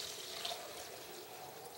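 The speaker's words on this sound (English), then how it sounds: "see the speed at which the water goes through the thing" Water pours steadily through a container packed with beads in a porosity and permeability lab demonstration, giving a continuous close trickling rush with no talk.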